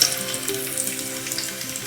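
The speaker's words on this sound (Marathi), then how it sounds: "लसूण कांदा गरम होतोय." Garlic and onion frying in a hot pot for a Konkan crab dish, a steady, close sizzle with light crackling and no voices.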